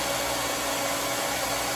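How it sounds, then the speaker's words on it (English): A handheld blow dryer blows air in a steady, loud, close rush of broadband noise with no break, used as a source of moving air for an air-pressure demonstration with a ping pong ball. "you can do one extra thing with this blow dryer that you couldn't do with the straw"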